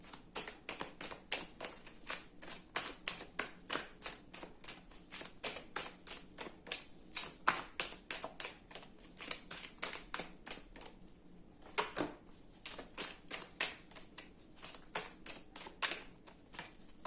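Oracle cards shuffled by hand in a rapid, even rhythm of sharp papery taps and riffles, close up and continuous with a few brief pauses, with no voice.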